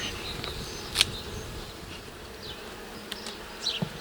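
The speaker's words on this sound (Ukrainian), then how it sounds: "Ось така кількість бджіл за заставною на рамках." Honey bees hum steadily inside an opened Ukrainian-Alpine hive with frames pulled out, a soft continuous buzz at close range with a few individual bees flying past louder, no voices.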